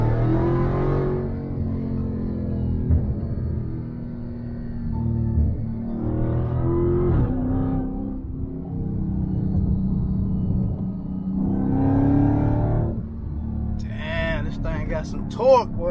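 A brand-new Chevrolet Corvette C8 Stingray does a burnout, its engine rising in several surging rumbling revs with tire roar underneath, heard alongside excited voices talking over it.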